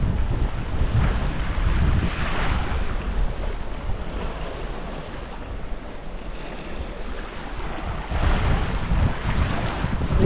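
Strong wind buffets a sailing boat along the New Zealand coast, about 12 knots on the quarter, roaring loud and constant over the rush of water along the hull, with no one talking.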